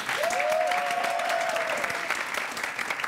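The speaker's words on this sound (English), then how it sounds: "That is worth a round of applause." A live studio audience at a team quiz show breaks into steady, dense clapping that fills the whole stretch, with a brief whistle-like tone near the start; no one speaks over it.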